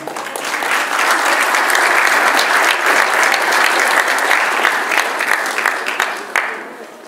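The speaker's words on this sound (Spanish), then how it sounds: "para quien pido un fuerte aplauso" Steady, dense applause from an audience at a public ceremony honouring local officials, sustained clapping throughout before tapering slightly near the end.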